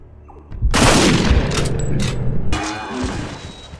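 A hunting rifle fires in the video game Cabela's Dangerous Hunts 2013, one loud close blast with a booming tail and rumbling echo that fades over a few seconds.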